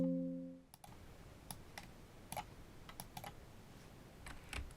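Computer keyboard typing, with a handful of distinct, fairly quiet key clicks spaced out, ending with the Enter key, after a brief tone at the start.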